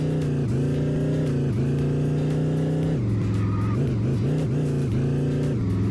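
Car engine in the Chicken Gun video game, a steady synthetic drone with pitch dips as the car shifts or turns, loud and continuous with no talk.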